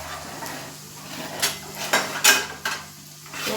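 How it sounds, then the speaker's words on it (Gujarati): Onions fry in a pan for aloo paratha, giving a soft sizzle beneath a few sharp clinks and scrapes of a utensil stirring against the pan. "ડુંગળી ગોલ્ડન બ્રાઉન થાય ત્યાં સુધી તેને ચડવા દેશું"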